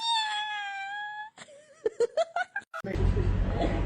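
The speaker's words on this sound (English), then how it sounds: "This is my cat Mimi." A cat lets out a long, tonal meow, then a quick series of short chirping, stuttering calls, followed by a burst of loud rustling, broadband noise close to the microphone.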